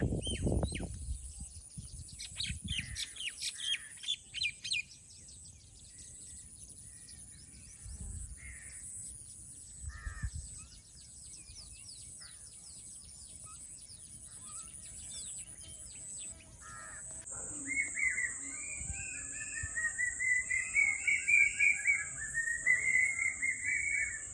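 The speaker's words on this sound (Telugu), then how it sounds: "తోటలో కొత్త రకం పక్షులు వచ్చినట్టున్నాయి వింతగా సౌండ్లు ఉన్నాయని చెప్పి రికార్డ్ చేశాను" Several unfamiliar birds call in open air in a farm garden, repeated caws and varied whistling chirps, with a steady high insect-like drone underneath and intermittent louder outbursts.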